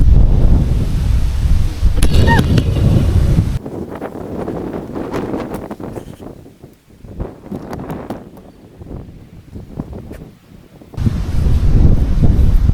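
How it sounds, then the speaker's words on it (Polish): Strong wind buffets the microphone outdoors by a laundry line in heavy rumbling gusts, easing off in the middle before roaring back at the end; no one speaks. "Wiatr zawiał, aparat się przekłócił."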